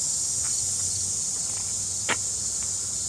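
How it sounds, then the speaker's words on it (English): Loud cicadas drone in a steady high-pitched buzz outdoors after rain, continuous throughout, with a few faint clicks and a brief knock in the background. "There's cicadas are everywhere and they're so loud."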